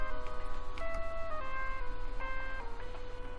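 Synthesized tune from the Scrap Mechanic video game plays steadily and fairly loud, with sustained melodic tones shifting pitch every second or so over a constant low hum, and no voices.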